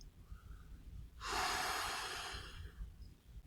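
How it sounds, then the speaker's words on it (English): One slow, deep breath, a soft airy inhale flowing into a long exhale that fades out, close and alone in a quiet room. "Inhale and exhale."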